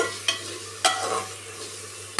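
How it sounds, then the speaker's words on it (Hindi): Masala frying and being stirred in a pan on a home stove, a steady sizzle broken by a few sharp scrapes of a spoon against the pan, close by with no talking. "तो हमारा मसाला भुन रहा है"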